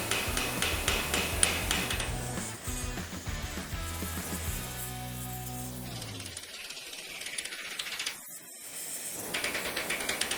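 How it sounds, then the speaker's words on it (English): Hammer blows striking softened, heated metal bar stock in a machinist's shop to put small dents in it, a steady run of sharp clanking impacts with a ringing metallic tone, close and fairly loud. "I just want to make it soft so I can put a bunch of little dents in it."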